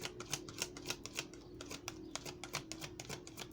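Tarot cards shuffle close by in quick, uneven bursts of crisp riffling and flicking, with a faint voice low underneath.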